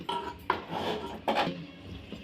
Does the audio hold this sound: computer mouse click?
no